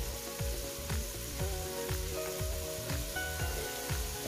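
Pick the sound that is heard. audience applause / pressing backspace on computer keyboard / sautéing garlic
sautéing garlic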